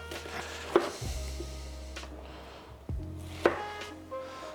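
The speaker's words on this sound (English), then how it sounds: "Cut the lettuce leaf." Knife cutting lettuce leaves on a board for a salad, a few distinct chops spaced about a second or two apart, close and fairly quiet over a low steady kitchen hum.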